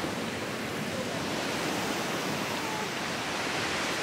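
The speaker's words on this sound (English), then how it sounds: "Can you hear the roar of the water?" Roaring rush of a waterfall in a chilly gorge on Yosemite's Mist Trail, a steady, dense broadband wash with no pauses, loud and even throughout.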